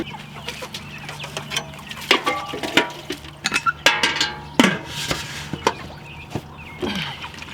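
Meat chickens raised on a homestead cluck and squawk in a steady chorus of short, repeated calls, fairly close and loud, with a low hum running underneath and no talking.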